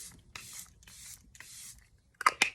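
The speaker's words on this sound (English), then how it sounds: "finishing off with the Airbrush Flawless Setting Spray." Charlotte Tilbury Airbrush Flawless Setting Spray mists out in three evenly spaced close hissing bursts, followed by two sharp little clicks or taps at the end, quiet and without talk.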